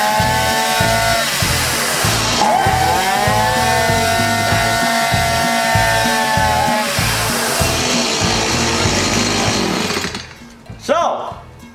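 Stihl chainsaw engine running after choke, a loud close two-stroke buzz with pulsing rhythm and revving pitch swings, then cutting out near the end; a voice talks over it.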